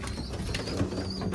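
Homing pigeons in a loft give a couple of soft, low coos over quiet rustling, close by and without any speech.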